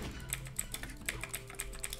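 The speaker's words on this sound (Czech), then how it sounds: "No ty snad slyšíš, ne, mojí klávesnice." Rapid typing on a computer keyboard during a Roblox Murder Party game session, a steady run of crisp close clicks across the whole stretch, no voice present.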